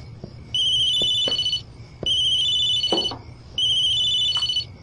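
A telephone rings in three repeated electronic trills, each burst lasting about a second with short gaps between, steady and clear against a quiet room.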